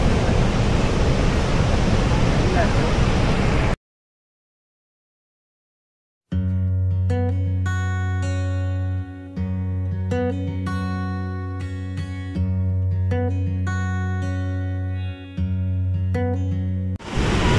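Unchalli waterfall near Sirsi roars as a loud, steady broadband rush for a few seconds, then cuts to silence, and music with a steady beat follows.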